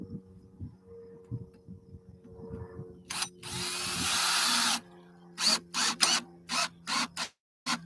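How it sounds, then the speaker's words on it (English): A power drill presetting screws on a Starlink dish mount outdoors, one longer whirring run followed by several short quick bursts, close and fairly loud, with faint insects in the background. "I'm going to preset the screws"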